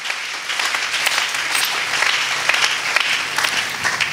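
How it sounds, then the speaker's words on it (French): A church congregation applauds steadily, a dense and fairly loud patter of many hands clapping at once for several seconds without a break. "Acclame encore une fois la parole de Dieu."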